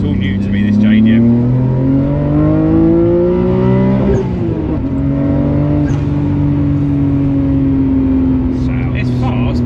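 Nissan Skyline R32 GTR engine revs loud and close, its pitch climbing steadily, dipping briefly, then holding a sustained high drone; no talk over it.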